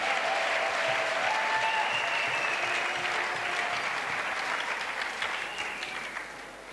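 A church congregation at an evangelistic crusade claps and cheers in sustained, dense applause that holds steady throughout and then eases slightly near the end.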